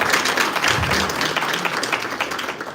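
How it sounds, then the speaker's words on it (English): A crowd applauds steadily, a dense patter of clapping hands that carries on for a few seconds without any voices. "Let's clap hands for him one more time."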